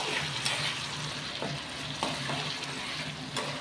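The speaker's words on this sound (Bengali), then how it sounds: "মশলাটাকে আমি ভালো করে ভেজে নেবো" Masala of ginger, garlic and onion frying in a pan, with a close, steady sizzle broken by the occasional scrape of stirring, heard without talk.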